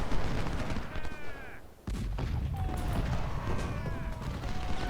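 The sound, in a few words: artillery volley in Ultimate General: Civil War video game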